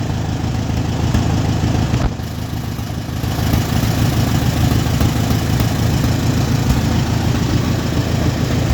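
An old Allis-Chalmers WD45 tractor engine idles steadily and loudly with a low, chugging rumble, dipping briefly early on before resuming its even throb.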